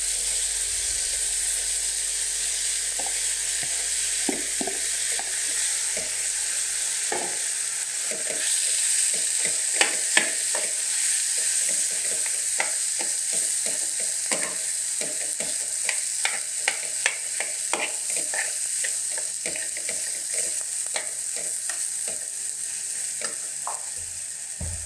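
Mashed boiled potatoes fry with onions and chillies for samosa filling, a steady close sizzle dotted with irregular crackles and clicking stirs throughout.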